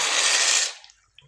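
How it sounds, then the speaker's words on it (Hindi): Pasta is tipped into a pot of boiling water with a brief rushing hiss and splash that quickly dies away, followed by a faint clink. "पानी में बॉईल आ गया है। अब इसमें हम पास्ता डाल"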